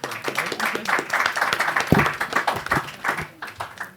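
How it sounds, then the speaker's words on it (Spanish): An audience claps steadily through a dense, continuous round of applause at an academic session, the clapping fairly close and sustained without pauses. "Muchísimas gracias por participar y nuevamente un aplauso."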